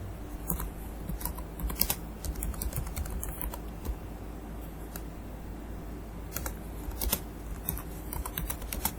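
Steady typing on a computer keyboard while entering reference details in Microsoft Word, with rapid clicking keystrokes in irregular bursts, close and clear, with no talking over it.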